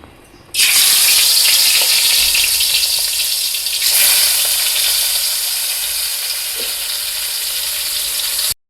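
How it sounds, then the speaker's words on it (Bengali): Fish coated in spices sizzles loudly in hot oil, a steady bright frying hiss that starts abruptly after a brief quiet moment and holds strong, with a small flare partway through and light clinks, no voices. "এবার আমি একটা একটা করে মাছগুলো ভেজে নেব।"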